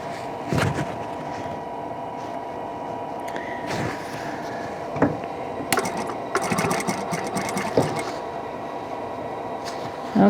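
A sewing machine stitches quilt block pieces together in steady bursts of needle clatter, with a few short pauses and handling noises between runs.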